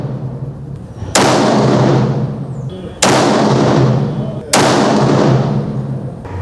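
Three loud, close rifle shots firing 55 grain Hornady full metal jacket target loads at an outdoor range, each sharp crack followed by a decaying boom, spaced about one and a half to two seconds apart.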